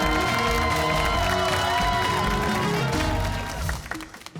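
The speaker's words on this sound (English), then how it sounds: "How about a round of applause for both teams?" Audience at a high school quiz match between Mansfield and Somerville claps and cheers over a loud music sting, the cheering fading toward the end into a few scattered claps.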